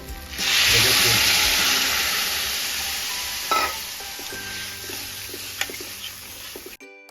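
Loud hissing burst as water hits sizzling fish egg bhurji in a hot pan, the sizzle easing into a steady simmering hiss with a few faint utensil scrapes toward the end.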